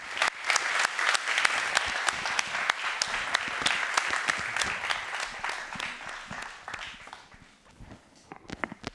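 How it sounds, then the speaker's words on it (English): An audience at a summit's concluding session applauds the program team, with sharp individual claps over a broad roar of clapping that thins out toward the end, leaving scattered claps. "Please, let's give them a round of applause"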